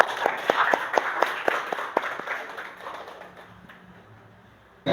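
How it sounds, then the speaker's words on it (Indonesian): Classroom applause from students, a scattered run of sharp claps that starts fairly loud and thins out, fading away toward the end. "beri tepuk tangan"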